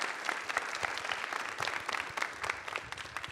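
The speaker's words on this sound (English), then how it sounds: "Let's give a big round of applause for Jamf," A conference audience applauds steadily, a dense patter of many hands clapping at moderate volume with no voices over it.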